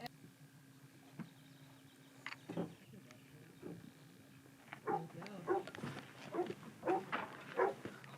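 A search dog on a rubble pile gives a run of sharp alert barks, several in quick succession, with people's voices and background commotion around them.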